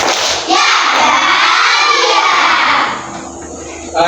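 A classroom of children in an Indonesian Islamic religious education lesson claps and shouts a rhythmic chant together, loud and dense for a few seconds before dropping back to a quieter room murmur.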